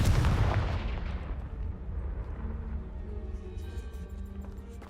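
A Confringo blasting spell in Hogwarts Legacy bursts with a heavy explosive boom at the start, then a long rumbling, crackling debris tail fades over several seconds.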